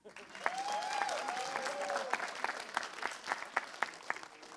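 Audience applause at a code.talks 2018 conference session, a crowd clapping steadily then thinning into scattered individual claps, with a brief whistle early on.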